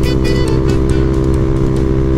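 A Honda Grom motorcycle runs at top speed on a freeway, its small engine producing a loud, steady, high drone blended with rushing wind noise and no break throughout.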